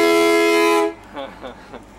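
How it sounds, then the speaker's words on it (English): A bus air horn gives a loud, harmonically rich blast for nearly a second, then cuts off, followed by brief quieter voices. "Air horn, man, let's hit that again."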